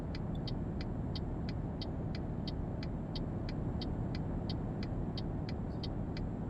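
A Mercedes-Benz truck engine in Euro Truck Simulator 2 drones steadily while climbing uphill, a low continuous rumble under an evenly spaced ticking like a hazard-light indicator.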